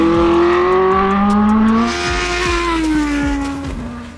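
Rodin FZ race car driving, its engine holding a loud, steady, close tone that rises and falls with gear changes and a slight fade toward the end.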